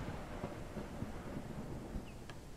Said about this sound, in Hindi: फिर से बारिश आ गई